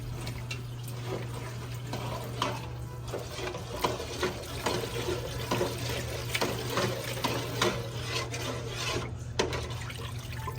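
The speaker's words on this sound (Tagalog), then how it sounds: "At maglalagay din tayo ng 1 liter ng tubig para sa baon natin." Water runs and splashes steadily into a cooking pot while sinigang sa miso is being made, a soft continuous pour with a low constant hum underneath and no talking.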